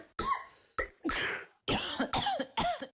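A person coughs in a cough medicine commercial, six separate harsh coughs in an uneven rhythm, close and loud, with short pauses between them.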